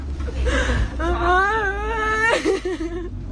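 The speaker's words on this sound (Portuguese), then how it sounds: "É possível ouvir o choro de desespero das vítimas" Desperate, wavering crying and sobbing of young women after an axe attack outside a party, loud and close, with drawn-out wails and shaky whimpers broken by gasps.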